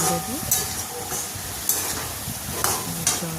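Potatoes frying in a pan with spices for an egg curry, stirred with a spoon: close, steady sizzling broken by rhythmic scraping strokes.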